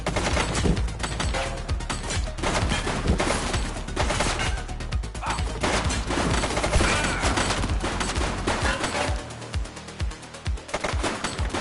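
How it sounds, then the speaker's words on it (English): Dense, continuous gunfire in the police game The Precinct, with rapid overlapping shots and bursts sustained loud and close for the whole stretch, like a heavy street shootout. "Shots fired!"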